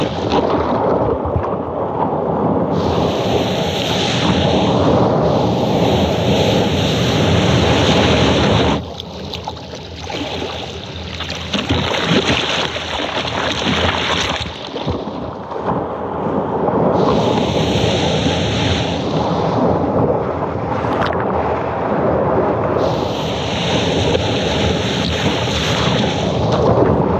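Ocean surf heard while riding an 8-foot soft top surfboard, a loud continuous rushing roar of waves and water with swelling and easing surges, plus wind buffeting, no talk.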